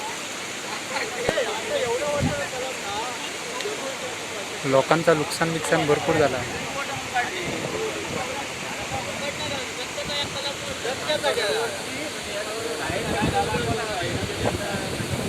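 Flood water rushes steadily through a village stream in Konkan after a cyclone, a constant broad roar running the whole way under a man's nearby speech.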